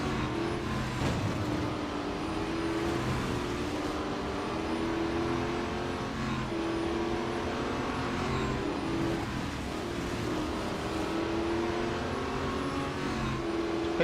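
A race car's engine in the Real Racing 3 video game runs as a steady, continuous drone with a sustained, slightly wavering pitch that never drops off, loud and unbroken, with no talking.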